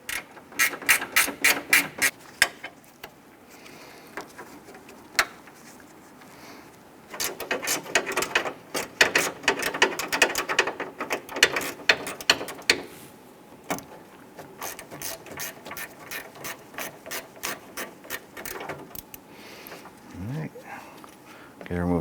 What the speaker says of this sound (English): Use your 10mm gear wrench. We want to go ahead and loosen this and remove it.